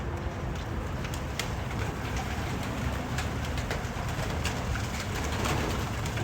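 Iraqi red pigeons coo repeatedly close by, low throaty calls over a constant background hum, with no talking.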